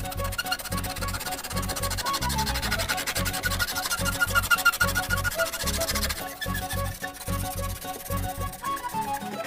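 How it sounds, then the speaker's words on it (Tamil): Sandpaper scrapes steadily over an old wooden chair in loud, rhythmic back-and-forth strokes, close up and continuous, with no one talking. "இந்த மாதிரி நல்லா ஒரு கத்தியை வச்சு சுரண்டிட்டு, அதுக்கப்புறம் உப்புத்தலை வச்சு நல்லா ஒரு சுரண்டு சுரண்டு சுரண்டிட்டு பாருங்கள்."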